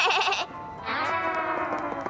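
A voice imitates a sheep's bleat, two nasal wavering cries in close succession, loud and close with no other sound.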